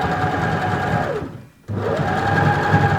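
A sewing machine stitches a pleated face mask with nose wire and a filter pocket, its motor whirring steadily, pausing briefly in the middle, then running on again loud and close.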